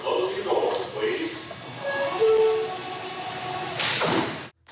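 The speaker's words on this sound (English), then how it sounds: "Stand clear of the closing doors, please" NYC MTA subway train doors closing on a station platform, with steady rumbling train noise, a few tonal chimes and an announcement voice, then a brief rushing thud near the end before sudden quiet.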